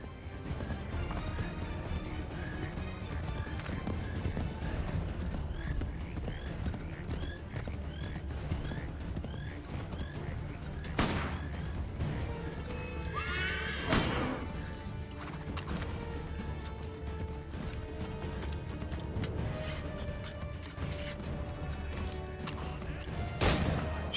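Horse hooves clip-clop rapidly in a gallop with a neigh rising above, set in busy Assassin's Creed 3 game noise with an occasional crash.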